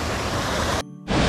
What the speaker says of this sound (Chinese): 咁靚嘅瀑布噶啦